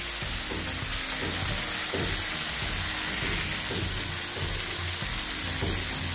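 Tomato and cumin with a cup of added water sizzle steadily in a pan while cooking a climbing fish curry, a constant close frying hiss with faint rhythmic stirring underneath.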